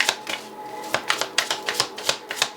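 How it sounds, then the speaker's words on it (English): Tarot cards being shuffled up close, a quick run of crisp, irregular clicks and taps lasting a couple of seconds, with no voices. "we are going to waste some time shuffling the cards to make it sure that it's, you know, legit"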